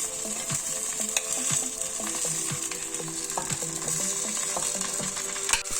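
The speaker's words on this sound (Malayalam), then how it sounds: "ഇതിലിട്ടിട്ട് ഈ എണ്ണയിലിട്ടിട്ട് ഒന്ന് വഴറ്റണം." Lemons being stirred and fried in sesame oil after the mustard seeds have popped, a continuous close sizzle broken by repeated scraping and clinking strokes of a spoon in the pan, with no voices.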